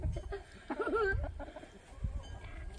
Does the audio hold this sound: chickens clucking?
yes